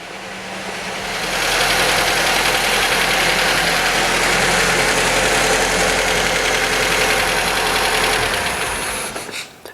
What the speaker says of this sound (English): First time this engine has run properly, I think in about 6 or 7 years.